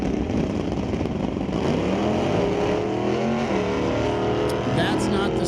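A factory D Superstock Mustang from Regina, Saskatchewan, spins its tires at a drag strip launch beside a 74 Cuda. The engine roars loudly and rises in pitch. A commentator talks over the sound throughout.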